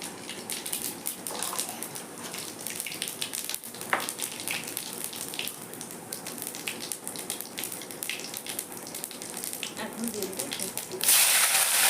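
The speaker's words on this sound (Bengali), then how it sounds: "তেল গরম হয়ে গেছে দিয়ে দেবো জিরা" Cumin seeds dropped into hot white oil in a wok, a continuous crackling sizzle with brief louder spits, carrying on steadily and swelling into a harsher burst at the end.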